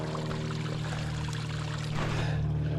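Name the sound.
water flowing from a spring on the Appalachian Trail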